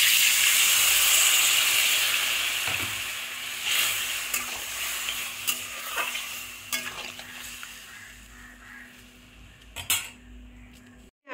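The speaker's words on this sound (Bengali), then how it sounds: "এদিকে দেখুন বন্ধুরা, ভেন্ডিটা এখানে ফুটছে।" Okra cooking in water in a pan gives a soft bubbling hiss that fades over time, punctuated by scattered metallic clinks and taps of a utensil against the pan.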